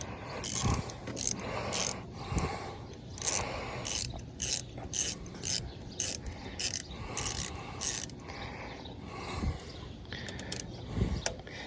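A wrench backs a nut off the carburetor of a John Deere LT155 lawn tractor, giving repeated short bursts of close ratcheting clicks separated by brief pauses and a few soft metallic knocks.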